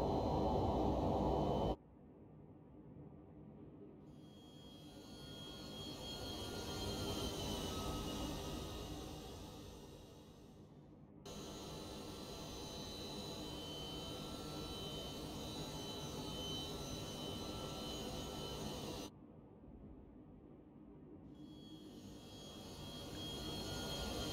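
MD-11F freighter jet engines roaring through takeoff climb out of Fort Worth Alliance in the X-Plane 12 flight simulator, a steady loud broadband rumble and hiss broken by brief cutaways.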